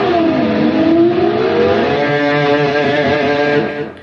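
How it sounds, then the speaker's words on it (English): Electric guitar harmonic divebomb on a Fender-style guitar, the whammy bar dipping the pitch so a bright, distorted harmonic swoops downward and sustains loudly before cutting off near the end, with no talking. "You can just make a harmonic sound and dip the bar down."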